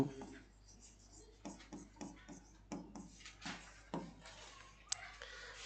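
Chalk or marker scratches across a classroom board in short, uneven strokes and taps, close and moderately loud, with some faint background noise.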